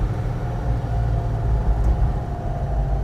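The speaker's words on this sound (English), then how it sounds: "Now that is just touching the accelerator" A 1967 Ford Mustang GT500 Super Snake tribute engine idles loud and close with a deep, continuous rumble, swelling slightly under light touches of the accelerator, well short of half throttle.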